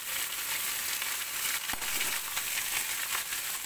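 Cauliflower frying in a pan in a home kitchen gives a steady, close sizzle that runs throughout, with a sharper crackle or pop partway through.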